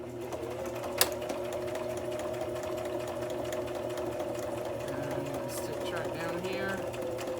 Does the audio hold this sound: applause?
no